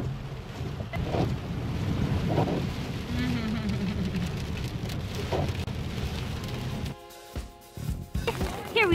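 Rain falls on a wet, rainy day at Lake Sammamish State Park, a steady close patter and wash that runs under a voice and some low rumbling, thinning briefly near the end.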